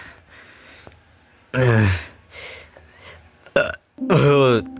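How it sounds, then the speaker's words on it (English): A big, loud burp erupts in a cartoon comedy scene, a long guttural belch followed by a gasp and then a second croaking burp, with brief quieter sounds in between. "that was a big burp"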